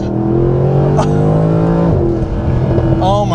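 Mercedes SLS AMG GT Final Edition engine roaring loudly up close with a rising rev, a brief shift-like dip, then climbing again.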